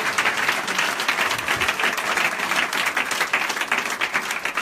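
A church congregation bursts into loud, sustained applause with dense clapping from the crowd that continues steadily throughout.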